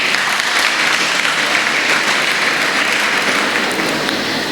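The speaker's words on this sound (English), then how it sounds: "A round of applause as well." Audience at a World Space Week celebration held with ISRO applauding steadily, a dense even wash of clapping sustained for several seconds without a break.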